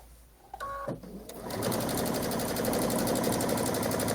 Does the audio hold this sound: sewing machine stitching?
yes